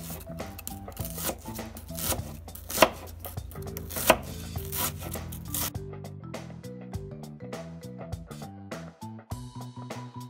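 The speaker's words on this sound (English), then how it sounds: "Now we're going to start cutting a little bit of our red onion." A knife chops red onion on a board in quick, regular strokes, crisp and close, with a few sharper cuts standing out; no voices are heard.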